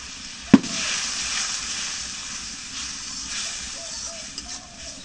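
Spice paste with salt and turmeric sizzles steadily in a pan, a continuous hiss at moderate level with one sharp clatter near the start.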